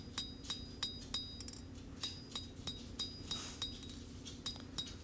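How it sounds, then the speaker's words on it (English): A hammer strikes steel on an anvil while a full-tang Bowie knife is hand forged, giving bright ringing clinks at an uneven, unhurried pace, about a dozen blows, close and moderately loud. "And there I'm using the corner of the anvil to draw the steel out and lengthen it."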